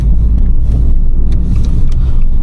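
An Abarth 595 hatchback drives steadily through a small residential area in Albacete, its engine a loud, constant low rumble with road noise close up and no voices.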